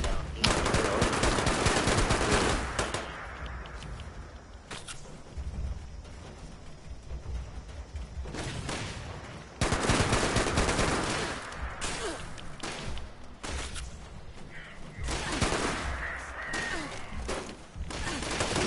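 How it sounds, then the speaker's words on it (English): Gunfire from live fire training in the video game Fallout 76, with dense bursts of automatic shots and sharp bangs recurring through the stretch, loud and close, pausing briefly between volleys. "Live fire training."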